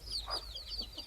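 Young five-day-old chicken chicks clucking softly in a farm coop, a few brief faint peeps and clucks close by over a quiet background.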